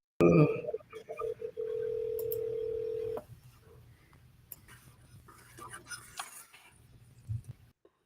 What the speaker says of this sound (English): It dialed once and then it broke.